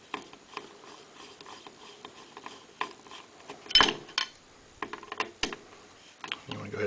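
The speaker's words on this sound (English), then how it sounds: "And tighten the grip screw down." Small mechanical clicks and scrapes from tightening the grip screw on an AR15 rifle during a trigger adjuster install, close and fairly quiet, with one louder tool clatter midway and no talk.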